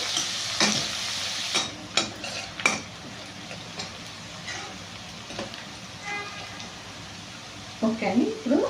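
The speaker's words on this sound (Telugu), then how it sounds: "అల్లం పేస్ట్ వేసినాను సరిపోతుంది పచ్చి వాసన పోయే వరకు ఫ్రై చేస్తున్నాను" Ginger paste frying in a pan for a restaurant-style gravy, with a sizzling hiss broken by scraping stirs and utensil knocks against the pan; a voice talks briefly near the end.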